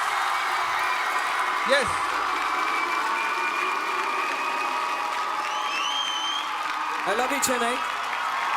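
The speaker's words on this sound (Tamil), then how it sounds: "அதுக்கேற்ற மாதிரி எவ்வளோ பெரிய கைத்தட்டல் இந்த சைடில் வரப்போகுதுன்னு பாருங்கள்." Applause from a concert crowd at a live show in Chennai, a broad continuous wash of clapping and cheering under someone talking through a microphone, with brief whoops rising from the audience.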